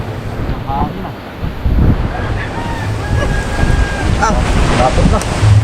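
Loud wind buffets the microphone beside crashing surf, a rough continuous roar with gusts rising and falling.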